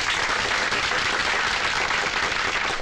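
A crowd claps steadily in a Bollywood film scene, a dense and fairly loud burst of applause lasting the whole moment with no talk over it.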